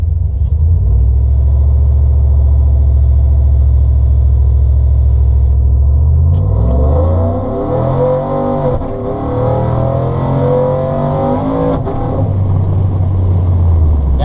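A cammed Chevrolet Silverado pickup truck accelerates hard from a steady lopey idle rumble into a loud, rising engine roar with gear-change dips, close and continuous throughout, with no talking.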